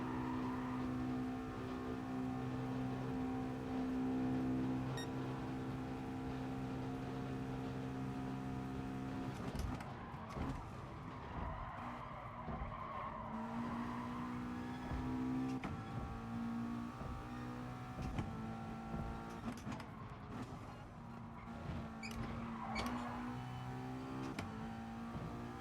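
McLaren race car in GT Sport pulling hard in seventh gear, a loud steady engine drone with harmonic tones sweeping gradually upward, continuous and close with no talk.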